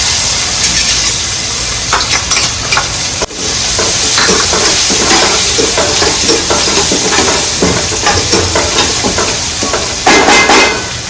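Onions with turmeric and asafoetida fry in oil for dal, a loud continuous sizzle broken by clattering spoon stirs and scrapes against the pan, close up and without speech.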